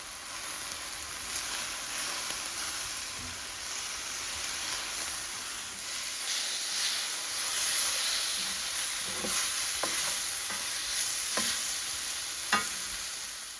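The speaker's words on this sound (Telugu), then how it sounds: "గోంగూర ఆకులు కూడా వేగిపోయిన తర్వాత టమాటా ముక్కలు వేసుకుని వేపుకోవాలి." Tomato pieces fry with gongura leaves in a pan, giving a steady, moderate sizzle broken by occasional scraping clicks of stirring, with no talking.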